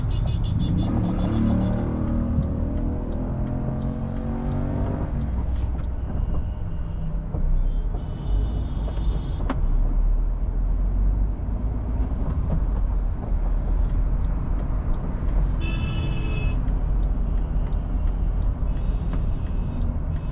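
A car idles then moves off in city traffic after indicating a right turn, with a continuous low engine rumble, surrounding traffic noise and occasional faint horns or beeps, no talk.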